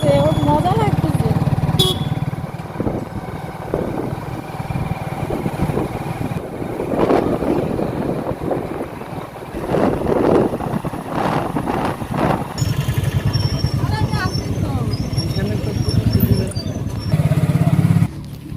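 A motorcycle carries riders along a road at night, its engine droning steadily and rising and falling through the ride while people talk close by over the noise.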